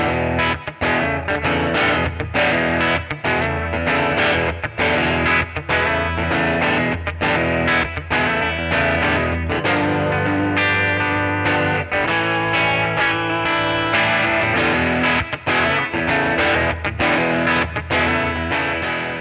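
Electric guitar played through a vintage Magnatone 213 Troubadour combo amp, its pitch-shifting vibrato adding a warm wobble to steady chords and picked notes that ring continuously and fairly loud for the whole stretch.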